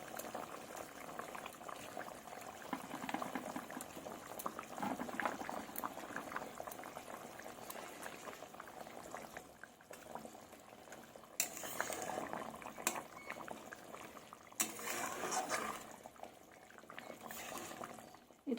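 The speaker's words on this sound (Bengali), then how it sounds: "ঝোলটা আমার ফুটে গেছে, টকবক করছে" Fish curry broth in a pot simmers at a steady rolling boil, with continuous close bubbling and occasional faint clinks of utensils.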